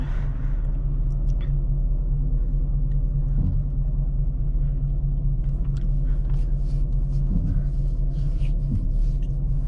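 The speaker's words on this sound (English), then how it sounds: "Traffic is crazy." Steady, heavy low rumble of vehicles on a busy road, continuous throughout, with faint scattered higher noises above the drone.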